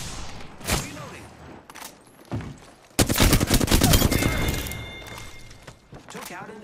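Rapid automatic gunfire bursts from a ranked online shooter match, a long dense volley in the middle after scattered single shots, with game voice callouts and speech around it.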